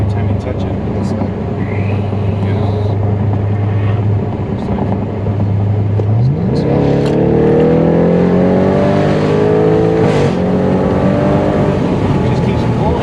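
Audi RS7 fitted with a loud FI exhaust accelerating hard, engine note climbing steadily through several rising sweeps, close and loud throughout, with people talking over it.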